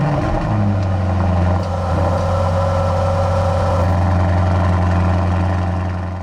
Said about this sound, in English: Take a listen to loud start mode.